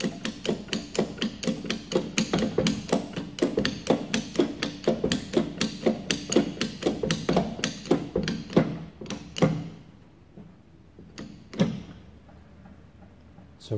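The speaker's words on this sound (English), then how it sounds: "So quickly pump it back up." Hand pump stroked repeatedly to pressurise a hydraulic valve test rig, a fast run of regular close mechanical knocks and clicks that slows, then a few last isolated clunks.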